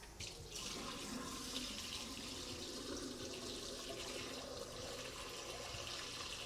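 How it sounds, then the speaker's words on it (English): A TankleBox pump drains dirty aquarium water into a drain, giving a steady, faint rushing and gurgling flow that continues evenly without talk. "it's as simple as pushing a button and it will pump all the dirty water straight down the drain."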